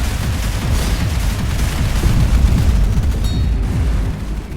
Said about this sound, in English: My primary right now is just a shotgun, and when it runs out of ammo, I resort to my other shotgun.